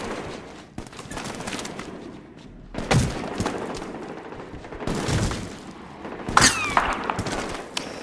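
Heavy gunfire in Medal of Honor Warfighter comes in loud bursts separated by quieter gaps. Booming impacts and rattling automatic fire swell around three, five and six-and-a-half seconds, with no talking.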